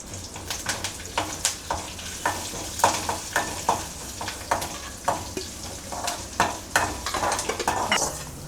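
Hot tempering of curry leaves and asafoetida poured into drumstick-leaf sambar, sizzling steadily while a spoon stirs and clinks against the pot in repeated close taps.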